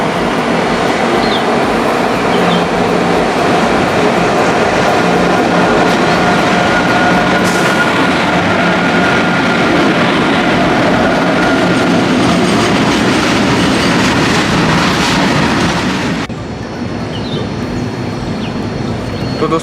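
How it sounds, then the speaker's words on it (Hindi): A Prayagraj Express passenger train travels at night, heard from on board as a loud, continuous rumble with rhythmic clickety-clack of wheels over rail joints, easing slightly near the end. "हमारी जो ट्रेन है प्रयागराज जंक्शन के आउटर पे पहुंच चुकी है।"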